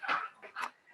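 Doberman and Husky sparring in play at night, heard as several short whimpering yips and growly vocal bursts in quick succession, fairly close and moderately loud, with no one talking.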